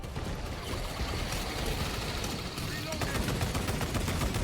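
Bolter machine gun fire rattles continuously in Warhammer 40,000 Space Marine 2 gameplay, a dense sustained barrage heard amid the game's loud battle din.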